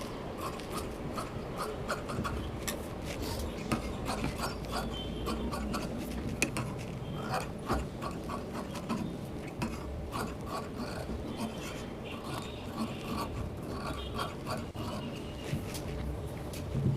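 Scissors cutting blouse fabric along the edge of the lining, a close, continuous rasping snip and rub texture with steady rhythm and no voices.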